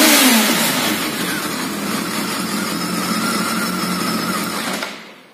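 A 2006 BMW K1200R four-cylinder motorcycle engine revs loudly up close, surging at the start, then holding a high, steady howl before cutting off abruptly near the end.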